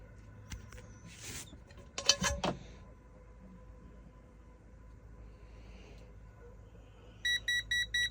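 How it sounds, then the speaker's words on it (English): A handheld gas leak sensor held near a gas stove burner gives quick bursts of electronic beeping, first a few scattered chirps and then a rapid run of five or six short, sharp beeps, all over a quiet room hum. "It's beeping."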